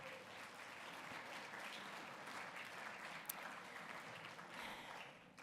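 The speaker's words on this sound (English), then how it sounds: "So a round of applause to all of the Academy members" An audience at an awards event applauds Academy members, a sustained, even roar of clapping heard faintly from a distance before it tapers off.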